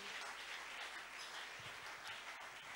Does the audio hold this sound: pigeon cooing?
no